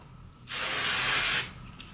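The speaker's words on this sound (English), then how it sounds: "take my Kenra 25 and I'm gonna spray it" Kenra 25 hairspray spraying onto hair during a low bun updo: one steady aerosol hiss lasting about a second, close and fairly loud, starting and stopping abruptly, with no talking.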